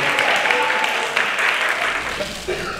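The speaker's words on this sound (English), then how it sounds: "Nice round of applause for our high school students" A brief, steady round of applause from an audience honoring high school students, moderately loud and fading a little toward the end.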